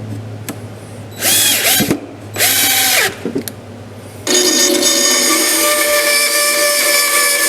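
A power drill drives bolts into a king-sized wooden deck chair in two short whirring bursts close up, with clicks between them, then a longer steady high-pitched run.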